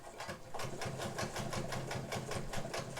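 A Japanese-made Morse all-metal sewing machine runs a long-length zigzag stitch, a steady rapid clatter of needle strokes repeating evenly at close range with a low mechanical hum underneath.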